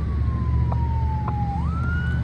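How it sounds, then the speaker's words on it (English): A fire engine siren wails steadily in the distance, its tone slowly sliding down then stepping up, over a low rumble of traffic. "And I'm hearing sirens"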